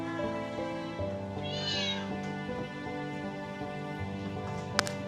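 A cat meows repeatedly indoors, a clear close call rising in pitch, over a steady background hum with a short sharp knock near the end; no talk.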